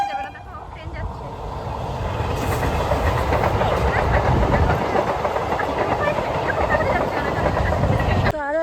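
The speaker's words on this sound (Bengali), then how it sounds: "দেখো ট্রেন যাচ্ছে।" A train rolls past on an evening during a thunderstorm, its steady rumble and rhythmic clatter of wheels building and holding close by, with a person speaking over it.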